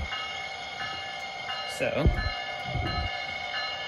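A Bachmann Siemens Charger HO scale model locomotive running with sound on, giving a steady electronic engine drone layered with tonal hums, over which a brief horn-like swell rises; a voice speaks briefly.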